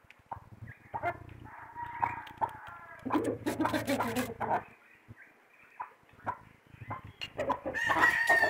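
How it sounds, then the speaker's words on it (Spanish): Hens clucking and a rooster crowing as they peck at feed on a small farm, with busy, overlapping calls rising and falling over several seconds and a person speaking at moments. "Aquí están comiendo las gallinas más, mira."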